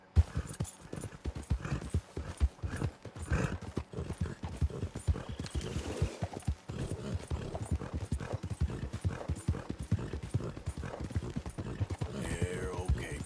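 Horse hooves clip-clop steadily at a brisk rhythm in the Red Dead Redemption 2 video game, close and continuous for the whole stretch, with an occasional faint whinny and a voice talking over it.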